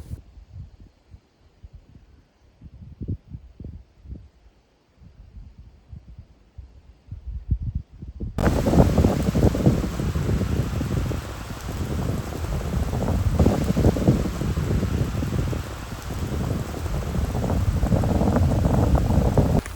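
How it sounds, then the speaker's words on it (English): Rain mixed with ice pellets and wind in the Colorado wilderness, with broadband hiss and gusty buffeting filling the second half after a quiet start of faint thumps, steady and fairly loud with no talking. "Well, it started raining."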